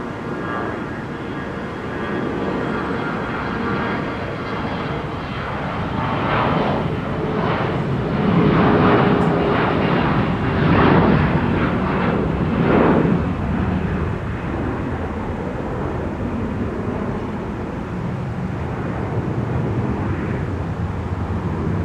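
An Endeavor CRJ regional jet departs Minneapolis–St. Paul airport, its steady engine roar swelling louder mid-pass then easing into a sustained distant rumble, with no talk.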